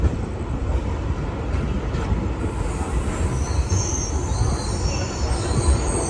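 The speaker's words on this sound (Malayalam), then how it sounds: "പാലക്കാട് ജംഗ്ഷൻ റെയിൽവേ സ്റ്റേഷനിലേക്ക് ഇതാ നമ്മുടെ ട്രെയിൻ എത്തിക്കൊണ്ടിരിക്കുകയാണ്." A mail train rolls into Palakkad Junction railway station with a dense, loud rumble of wheels on rails and high squealing brakes, continuous and close by.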